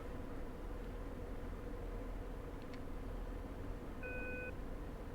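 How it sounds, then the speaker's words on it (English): Radar search beep in the DCS flight simulator, a single short electronic tone about half a second long over steady engine and cockpit noise, faint and close. "It does a big beep."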